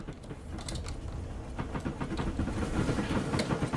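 A train in Train Simulator backs onto the far end of its consist, with a steady rumble and quick clickety-clack rail beats building slightly louder, with no voices.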